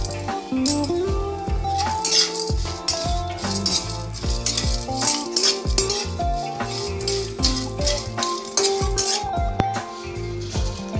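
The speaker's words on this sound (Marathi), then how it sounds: "आता त्यामध्ये आपण लवंग टाकणार आहोत आणि लवंगा देखील छान अशा भाजून घेणार आहोत।" Cardamom and cloves dry-roasting in a pan with no oil for a homemade village-style masala, heard as loud, continuous rattling and scraping as the whole spices are stirred and tossed against the metal.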